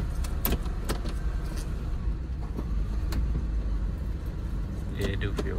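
A 2016 Toyota Tundra V8 engine idling steadily as it is shifted into drive, a constant low rumble with faint clicks and clunks while someone talks nearby.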